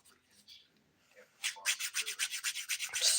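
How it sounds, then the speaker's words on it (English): Rapid back-and-forth rasping of the 100 grit side of a nail file against a dip-powder nail, a dozen quick close strokes after a quiet start with a soft voice. "So I'm using the 100 grit side of this file to just scrape"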